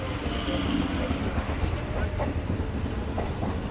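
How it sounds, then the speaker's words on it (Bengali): A local train setting off after a crossing, heard from on board as a steady, close rumble with rhythmic wheel clatter building over the rails. "আমাদের ট্রেনটাও ছেড়ে দিল ক্রসিং হওয়ার পরে"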